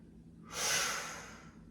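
A single quick inhale during a mat workout, a close airy rush of breath rising sharply and tapering off within about a second, alone and fairly quiet.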